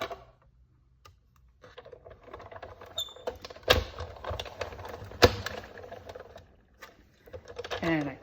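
A die-cutting machine forcing a die and card stock through its rollers during card making, a few loud sharp jolts and rattles that shake the setup, with quieter clicking and handling noise between them.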